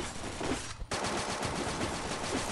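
Automatic weapon fire in the battle-royale video game Free Fire rattles out in loud, rapid bursts, with a brief break before the shooting resumes.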